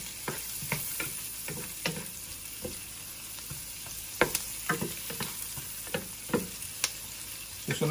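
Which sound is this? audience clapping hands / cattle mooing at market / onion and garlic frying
onion and garlic frying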